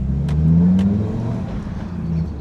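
An Audi TT RS engine rumbles deep and loud close by with its exhaust valves open, the exhaust note swelling briefly as it revs, then settling to a steady growl.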